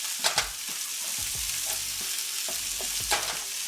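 Onions fry in a pan for a patty melt, a steady close sizzle broken by a few short scraping stirs and clunks of a utensil, with no speech.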